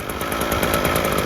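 A Ryobi weed trimmer's small two-stroke engine runs on choke while warming up just after a recoil start, a loud steady buzzing drone close by, alone without talk.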